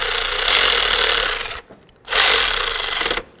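Ratcheting or power-driving bolts into plastic on a 2005-14 Ford Mustang fuel injector seat: two sustained buzzing bursts with a short pause between, close and fairly loud, no talking.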